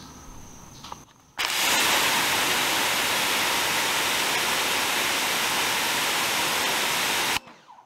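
A pressure washer fitted with a 40-degree nozzle, guard removed, sprays in a loud steady hiss that starts abruptly, holds for about six seconds and cuts off sharply.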